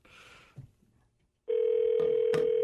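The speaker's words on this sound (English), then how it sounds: "The phone's calling Angel." A telephone dialing out gives a few short clicks and rustles, then a loud, steady electronic tone that rings on continuously, close and clear, with a couple of brief sharp ticks over it.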